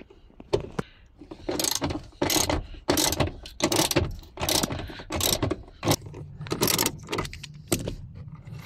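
A ratchet wrench working on the seat screws of a Proton Exora during a fuel pump swap, giving a dense series of close, sharp clicking and rattling bursts with short pauses between them, and no voices.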